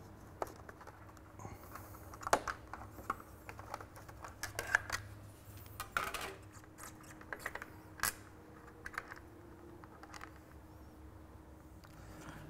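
Bolts are worked loose from the bodywork of a Yamaha R6 motorcycle: scattered faint metallic clicks and taps, irregular and close, over a quiet background.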